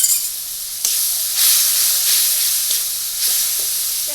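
Masala batter for kakrol curry frying in a pan, giving a loud, steady sizzle with bursts of hiss as it is stirred.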